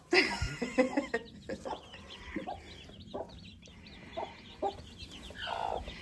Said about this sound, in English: Hey, let's go check on our hatchery chicks that we put underneath our Broody Momma.